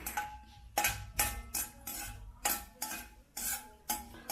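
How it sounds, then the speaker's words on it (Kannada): Cashews roasting in ghee in a pan while a spoon stirs them, giving repeated scraping clinks at a steady rhythm over a faint sizzle, close and clear with no voices. "ಈಗ ಗೋಡಂಬಿನ ಹಾಕ್ಕೊಳ್ತೀನಿ ಇದರಲ್ಲಿ ರೋಸ್ಟ್ ಆಗಲಿ ಇದು"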